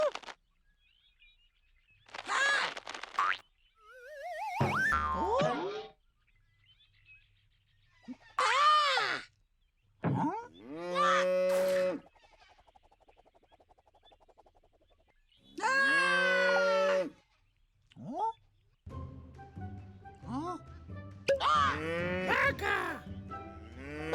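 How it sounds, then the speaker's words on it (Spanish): A cow in a children's animal-sounds cartoon moos in several long, drawn-out calls separated by silent gaps, loud and close with nothing else over them. "¡Vaca!"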